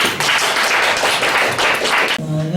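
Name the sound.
audience applauding at seminar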